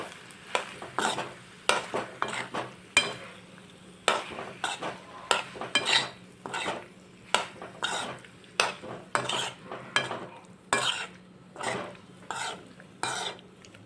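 A spoon stirs pasta seasoned with oregano and red chili flakes in a pan, giving a regular rhythm of scraping, clinking strokes against the metal with a faint sizzle between them, close and clear with no talking.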